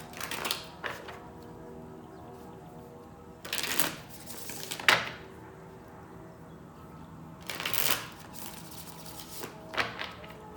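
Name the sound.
shuffling a deck of cards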